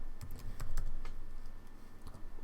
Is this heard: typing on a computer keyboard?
yes